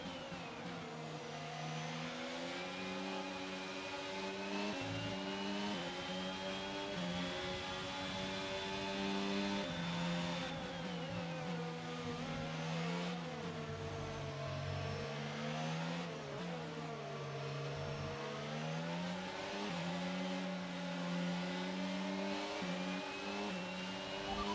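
A race car engine in a racing video game, a continuous loud revving that climbs and drops through gear changes for over twenty seconds, steady and close, with no talk.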